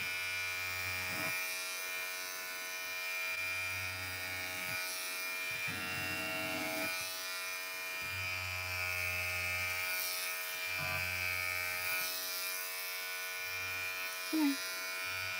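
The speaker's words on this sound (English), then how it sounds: "Shave it down a little bit shorter so it's not too long when I add the extra like" Electric clippers buzz steadily and close, shaving material down shorter, with a constant motor hum that shifts slightly in pitch. Intermittent talk runs beneath it.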